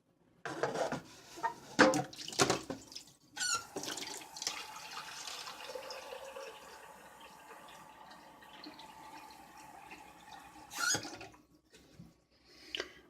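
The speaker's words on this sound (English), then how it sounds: "And I'll add some more water to that." Water is poured from a tap onto apple peels in a jar for cider vinegar, starting with a few splashy knocks, then a steady filling stream that runs several seconds before a final clatter.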